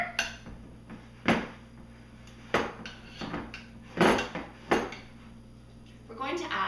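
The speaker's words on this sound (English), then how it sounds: "Mine is already pre-softened, which is going to make it really nice to mix together. Just going to mix it around a little bit here." Softened Philadelphia cream cheese worked with a utensil in a bowl, giving several sharp clinks and scrapes at uneven intervals, close and fairly loud, with a faint voice near the end.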